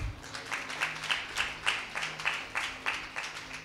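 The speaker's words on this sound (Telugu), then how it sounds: "చప్పట్లు కొట్టండి." An audience claps together in steady, rhythmic beats of about three per second, fairly close and even, with no voices over it.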